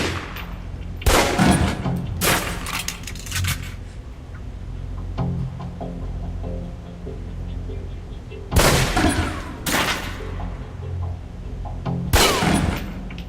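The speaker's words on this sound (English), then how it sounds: "Equip the pistol, then aim down range and take some shots at the target." A handful of pistol shots fired at a range target in the video game Alpha Protocol, sharp and loud, spaced several seconds apart with a quiet hum between them.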